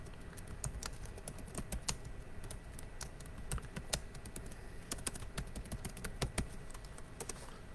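Rapid clicking of keys on a computer keyboard, an irregular stream of close, quiet taps with occasional sharper strokes, no voices.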